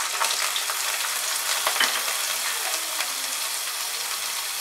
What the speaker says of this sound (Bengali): সবজিগুলোকে হাই ফ্লেমে আমি 2 মিনিট ফ্রাই করব।